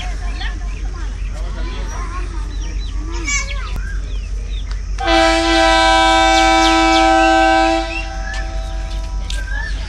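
A passenger train whistle on the Jand line in Pakistan blows loud and steady for about three seconds, a sustained multi-tone blast heard from a guard van amid ambient rail noise and birdsong.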